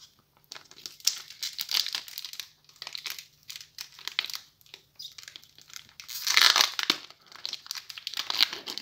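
Hands tear open a Pokemon GO booster pack, its foil wrapper crinkling and crackling in irregular close bursts, loudest near the end.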